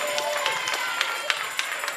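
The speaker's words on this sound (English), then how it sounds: "Give her a big round of applause." An audience applauds a contestant at the Ghana's Most Beautiful 2022 pageant, with dense, steady clapping and a few louder claps standing out over two seconds.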